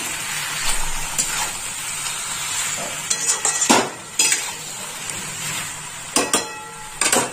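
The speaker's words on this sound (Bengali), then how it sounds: "নুনটা ভালো করে মিশিয়ে নেব।" A utensil scrapes and clinks against a pan while salt is stirred into cooking vegetables, a series of short, irregular strokes over a soft steady sizzle.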